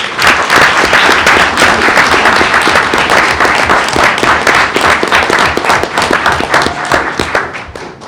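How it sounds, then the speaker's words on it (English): Loud, close applause breaks out at a school board meeting, a dense patter of hands clapping that holds steady for several seconds before starting to taper off. "Let's give them a round of applause."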